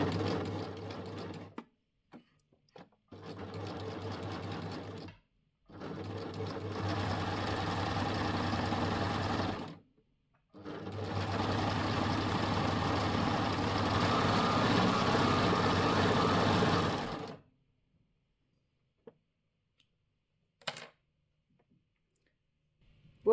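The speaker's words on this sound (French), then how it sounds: "Et à la surjeteuse, je vais venir coudre ici mon côté de vêtement." An overlock serger stitches the side seam of a t-shirt, running in three bursts of steady motor hum with short pauses between, the last run longest, then silence.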